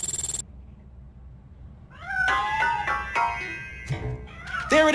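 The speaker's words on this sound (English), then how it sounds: "That cat must be hiding inside." A cat meows repeatedly in the RoboCop: Rogue City video game, hiding inside a piano in an old factory, a run of close, clear, rising and falling cries after a short burst of noise and a quiet pause.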